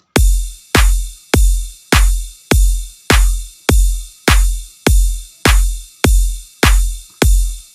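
A kick drum layered with a bright, noisy hi-hat-like sample hits in a steady loop, about a dozen loud, evenly spaced strikes, each with a deep booming low end and a sizzling top that decays quickly, with no voices.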